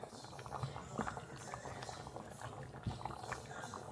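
Red beans with seasonings simmering in a pot, soft steady bubbling and occasional pops, quiet and close with no talking.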